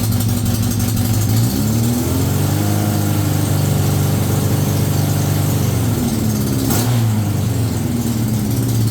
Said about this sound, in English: Let's give it some rev.